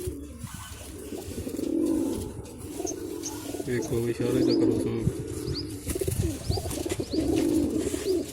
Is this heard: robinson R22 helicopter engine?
no